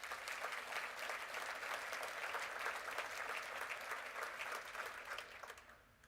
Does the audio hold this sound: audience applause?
yes